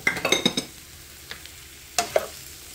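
Garlic and cardoon sauté in olive oil in a pan, giving soft sizzling. Several quick stirring scrapes and clinks come in a burst at first, then return briefly later, fairly close and quiet.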